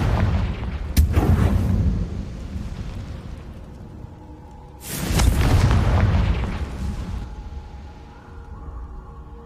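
Fire spell explosions in the Hogwarts Legacy video game: two loud, deep booming blasts with sharp attacks, each rolling into a long rumbling decay, the second stronger and more sustained.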